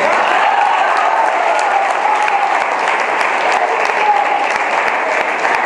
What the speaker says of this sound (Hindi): वो है मिस्टर विशाल अग्रवाल और तालियों की बारी हमारी है।